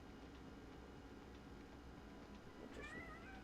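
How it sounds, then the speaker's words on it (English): A pet cat meows near the end, a few short rising cries over a steady low background hum, fairly faint and close by. "What are you meowing at?"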